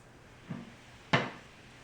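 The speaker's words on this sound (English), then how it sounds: "As the door opens up, it misses the EuroButt, continues to open" A cabinet door swings open on a EuroButt II faux butt hinge paired with a European concealed hinge, giving a soft low creak followed by a single sharper wooden knock, close and fairly quiet with no talk.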